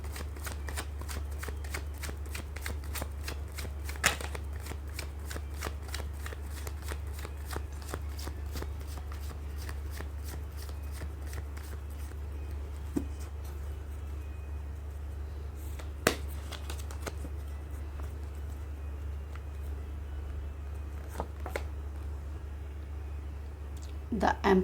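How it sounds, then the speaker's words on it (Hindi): Tarot cards are shuffled steadily for a Hindi tarot reading, a quiet, rapid run of papery riffles and flicks with a few sharper snaps, set over a low constant hum. "कर लेती हूँ कार्ड की शफलिंग।"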